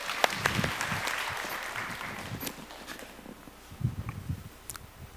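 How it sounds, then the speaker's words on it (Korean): Congregation applause at a Korean church youth worship service, a few seconds of scattered clapping that rises at the start, thins out and picks up briefly again near the end, at moderate distance with no talk over it. "하나님께 영광의 박수 올려드리겠습니다."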